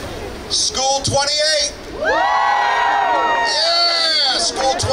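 A crowd of high school students at a science expo yells and cheers in loud bursts, with shouted whoops rising and falling and a sustained wave of voices in the middle.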